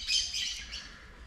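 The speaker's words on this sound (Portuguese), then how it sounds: "Inclusive tem aves cantando aqui," Birds chirp and sing outdoors in a short burst of bright, high-pitched calls that are loudest at the start and then settle into steady background twittering.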